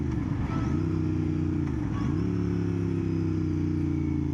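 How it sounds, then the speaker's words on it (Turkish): Royal Enfield GT 650 motorcycle engine braking at speed: a loud, steady close engine drone dips briefly around a gear change, then resumes a sustained rumbling note with road and wind noise. "Bir bakalım motor frenimiz nasıl?"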